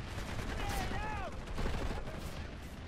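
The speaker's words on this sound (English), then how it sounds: "random sniper with your default semi-auto" Semi-automatic sniper rifle fire from a default weapon in the PlanetSide 2 shooter, gunshots crackling amid busy battle noise with a whizzing projectile sound, quiet in the mix and partly under a player's voice.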